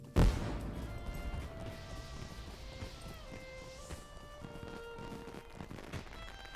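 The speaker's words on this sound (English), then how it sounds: "Oh god, that scared me. Fireworks." Fireworks in the Lord of the Rings Online video game, at a festival in the Shire, open with a sudden loud bang, followed by whistling, crackling bursts and sparkling pops over a steady background.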